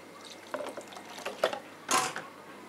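Water is poured into flour to make batter for Rajasthani malai ghevar, heard as soft splashing and liquid stirring sounds in a kitchen, with a louder pour near the end and no speech.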